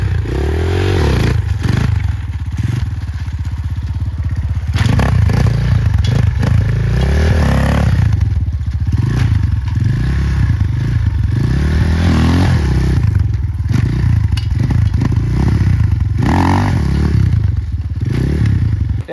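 A MotoPro RF250 dirt bike on an enduro trail revs up and down repeatedly as the rider lifts the front wheel, its close, loud engine rising and falling in surges with clattering thumps and scrapes from the terrain.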